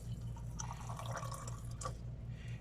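Water poured into a container of aloe vera juice ingredients, a soft steady splashing and trickling stream with a few brighter drips, fairly quiet and close, over a constant low background hum, with no talking.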